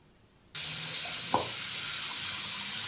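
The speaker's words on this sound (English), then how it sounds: "when you run it under the water in your tub" Bath truffle melt dissolving under running tub water: a steady, loud, broadband rush of water from the faucet begins abruptly and continues without pause, with one brief splash-like knock in the middle.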